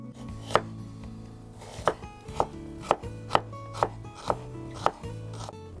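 A knife cuts a red onion into thin strips on a board, making eight or so crisp, evenly spaced chops close up over a low steady background hum, with no speech.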